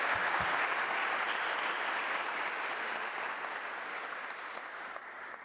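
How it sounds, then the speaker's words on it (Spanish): Seminar audience giving a sustained round of applause, a dense, even roar of many hands clapping that holds steady and gradually softens toward the end. "Así que los invito a aplaudir nuevamente"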